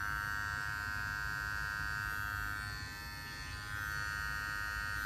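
BaBylissPRO Silver FX cordless hair clippers hum steadily up close with a bright electric buzz, dipping slightly in the middle before resuming.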